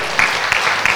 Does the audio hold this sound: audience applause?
yes